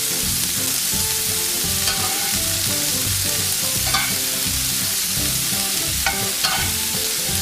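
Sliced bell peppers sizzle steadily in a hot frying pan, a loud continuous hiss with the scrape and clatter of stirring as they are swirled around, no voices.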